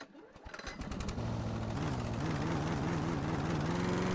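A lawn mower engine in the House Flipper 2 video game runs steadily and loud with a continuous droning tone that shifts pitch slightly, as if sputtering low on fuel, with no talking over it.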